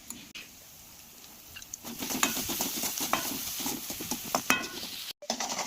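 Besan frying and being stirred in oil in a pan, with soft sizzling and repeated scraping strokes of a spoon, close and moderately quiet.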